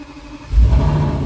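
An Audi S8 engine cranks and catches about halfway through, settling into a loud, close, steady low rumble that carries on to the end.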